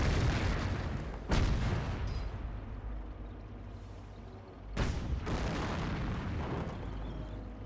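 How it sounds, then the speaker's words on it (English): Heavy tank cannon fire in the World War II strategy game Company of Heroes, with Firefly and Cromwell tanks firing: two loud booming blasts about three seconds apart, each followed by rumbling decay over dense battlefield noise. "Firefly and Cormo firing away"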